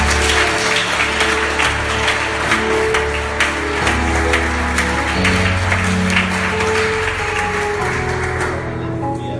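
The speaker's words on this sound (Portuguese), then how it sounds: "Dá uma salva de palmas para Jesus" Sustained clapping from a church congregation worshipping Jesus, loud and continuous over steady organ or keyboard music for the full stretch.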